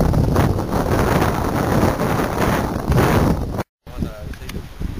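Steady wind buffets a microphone while sailing from Tallinn toward Pirita, a loud broad rush that runs almost continuously before a brief dropout, with faint water and boat sounds beneath.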